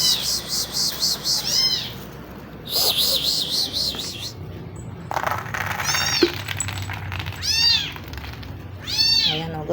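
Stray cats being fed, meowing repeatedly in high, rising cries from several animals nearby, with clinks of food or dishes and occasional human voice in between.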